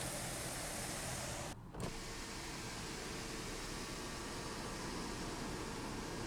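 Power panoramic sunroof shade in a 2015 Chrysler 200C AWD sliding open, a steady close electric motor whine lasting the whole stretch with a brief pause near the start, heard inside the quiet cabin with no talking.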